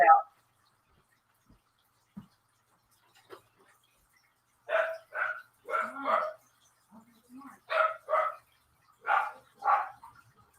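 Pet dogs bark in a house, a few isolated sounds first, then a run of sharp barks in pairs and groups, moderately near, with a little low voice between them.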